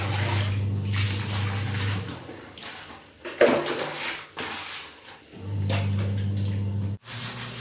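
A towel is washed in water, with splashing, sloshing and wringing sounds coming in bursts close by, interrupted by short pauses.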